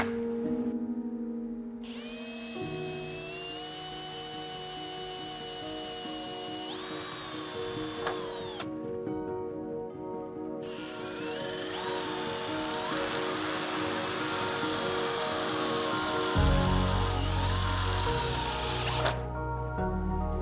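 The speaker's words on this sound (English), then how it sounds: "I'm going to try to just put a 10 millimeter hole in there so it's plenty large. So we'll start with a pilot hole." A power drill bores a pilot hole in metal, whining steadily through several long runs with pauses between them and a deeper grinding near the end.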